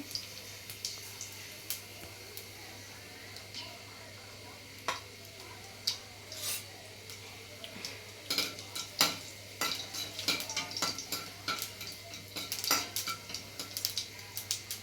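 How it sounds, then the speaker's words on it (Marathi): Mustard seeds crackle and pop in hot oil while Maggi-style vermicelli is prepared in a home kitchen, giving scattered sharp ticks that start sparse and grow busier and denser toward the end, close and fairly quiet. "मस्त मोहरीला कड आला"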